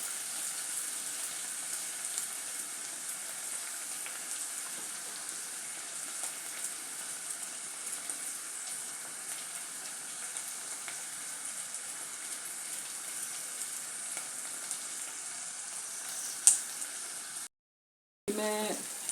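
Garlic frying in hot oil for a masala fish curry, a steady broadband sizzle that holds evenly throughout, briefly cut off near the end before resuming.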